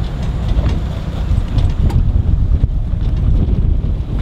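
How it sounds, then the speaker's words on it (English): Strong wind blows at a Vero Beach marina, buffeting the microphone with loud, continuous rumbling gusts that last the whole stretch, with no voices. "A little more windy than I was thinking it was going to be today."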